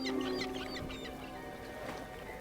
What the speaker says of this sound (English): we need to go grab the chicken for him